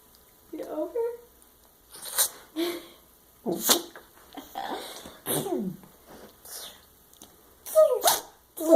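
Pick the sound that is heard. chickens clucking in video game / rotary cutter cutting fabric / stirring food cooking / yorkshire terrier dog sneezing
yorkshire terrier dog sneezing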